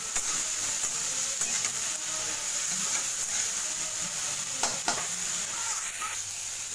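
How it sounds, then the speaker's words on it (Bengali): Shrimp frying in a pan with turmeric and salt, giving a steady, close sizzle that runs unbroken under a bright hiss, with a few light stirring scrapes near the end. "হলুদ দিলাম, নুন দিলাম, দিয়ে একটু ভেজে নেবো।"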